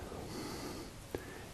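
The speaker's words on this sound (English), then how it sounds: "breathing out." A steady, soft exhalation during a seated tai chi breathing exercise, close and breathy, with a brief snort-like puff near the end.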